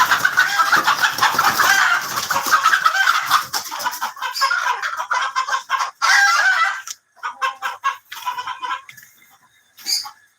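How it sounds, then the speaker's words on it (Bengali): Colombian Light Brahma chickens, a rooster and several hens, clucking and squawking loudly up close in a continuous busy chorus that breaks into shorter bursts toward the end. "আমাদের কালেকশনে আরো রয়েছে কলম্বিয়ান লাইট ব্রাহ্মা, এটা হচ্ছে মোরগ, আর এগুলো হচ্ছে মুরগি"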